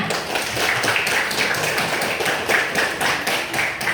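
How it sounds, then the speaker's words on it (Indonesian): A class of students claps for classmates who answered questions, producing quick, repeated hand claps that blend into a busy, fairly loud patter throughout. "Ayo tepuk tangan semuanya."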